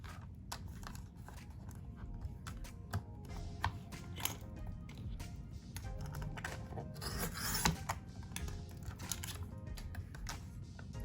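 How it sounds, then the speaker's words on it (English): A blade slides along a We R Memory Keepers Pocket Punch Board, cutting the corner of a sheet of paper with quiet, scratchy rasping strokes and a few small clicks. "I'm gonna use this blade, cut the corner"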